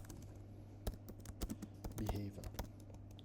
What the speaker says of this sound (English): let me just type this in